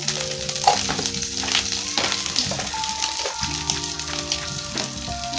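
Neem leaves and potatoes fry in a pan with a steady, loud sizzle and stirring, while faint tonal background sounds run beneath and no one speaks.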